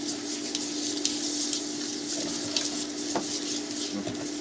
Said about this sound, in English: now what I want to do is just mix all this together